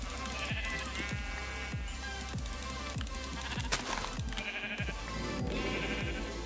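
Sheep in the Minecraft video game bleating repeatedly in short, evenly spaced cries over steady game background sound.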